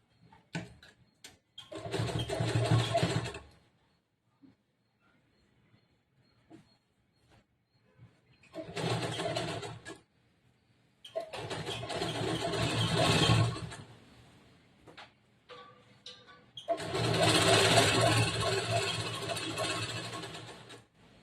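Sewing machine stitching the side seam of a blouse, running in four separate bursts of steady mechanical whirring with quiet gaps and small handling noises between them.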